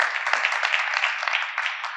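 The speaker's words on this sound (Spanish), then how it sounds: "Fuerte aplauso para él también." Audience applause at a round table event held by Porcelanosa in León, a steady wash of many hands clapping through the whole two seconds.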